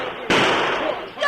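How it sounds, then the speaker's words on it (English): A single loud gunshot-like crack with a short noisy tail in a western radio drama, close and prominent, followed by the start of another burst. "Stop them shots!"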